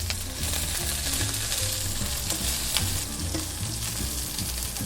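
Garlic, ginger and thick leafy greens stems stir-frying in a hot pan, a dense continuous sizzle with crackles and stirring scrapes, close and steady throughout.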